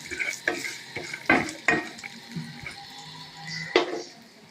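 Cashews and peanuts sautéing in a pan with asafoetida, a soft sizzle punctuated by several sharp spoon scrapes and clinks against the pan, close and alone.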